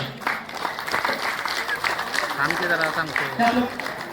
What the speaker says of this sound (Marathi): अशा वेळेला एकमेकाला आपण टाळ्या वाजवून प्रोत्साहन देणं